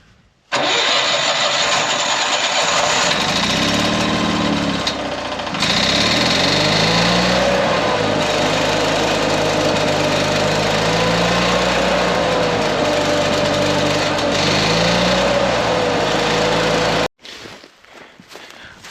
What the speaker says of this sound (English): So I'm gonna get the welder started.